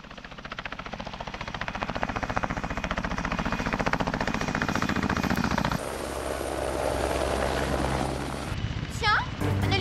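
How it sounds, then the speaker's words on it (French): A helicopter roars steadily nearby, its rotor chop and engine whine loud throughout, with a sudden shift in tone partway through and a few high squeaks near the end. "Tiens, un hélicoptère."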